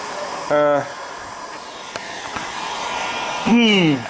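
A heat gun runs steadily with a broad hiss while heating a car's wheel-arch guard at home, alongside a few faint knocks and two tonal whining bursts. Someone talks over it.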